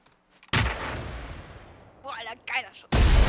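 A sniper rifle shot in the video game Generation Zero: a sharp loud report whose decay trails off for a couple of seconds. Brief voices are heard before a second heavy blast cuts in at the end.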